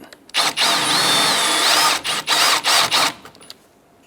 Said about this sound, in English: Let's drill out our lower rivet.